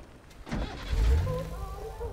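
A motor tricycle engine turns over and catches, a low rumble swelling after a short cranking noise and then settling into a steady idle, heard from close by with no talk.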